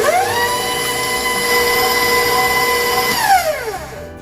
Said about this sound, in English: you want to beat the butter and the sugar properly to make the cake light and